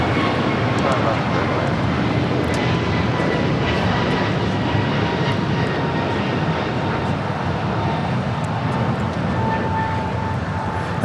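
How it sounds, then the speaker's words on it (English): An American Airlines A321neo roars down the runway on takeoff for Charlotte at Los Angeles airport, a loud, steady jet engine rush with a rising whine that holds for the whole stretch. "That was American Airlines 1138 taking off to Charlotte on the A321neo."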